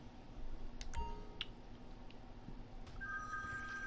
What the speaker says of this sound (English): hold on, my phone's ringing again